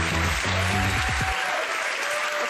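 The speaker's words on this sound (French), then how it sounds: "Je vous demande d'applaudir Fabienne Chauvière" Studio audience applause on a French television talk show welcoming a guest, dense continuous clapping with a low musical sting at the start, fading a little toward the end.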